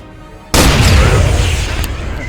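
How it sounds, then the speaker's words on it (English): A rocket launcher fires and explodes in the ArmA 3 military video game, a single sudden loud boom followed by a long, heavy rumbling roar that fades slowly. "Rocket."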